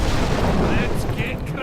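Falstad's Aerial Blitzkrieg attack in Heroes of the Storm, a dense barrage of booming, crackling impacts that rolls on continuously and loudly for the whole short burst.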